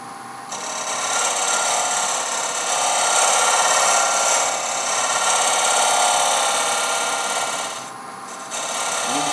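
A scraper cuts a cove into spinning wood on a lathe, producing a loud, continuous rasping scrape with a steady hum that dips briefly near the end as the tool eases off, with no voices.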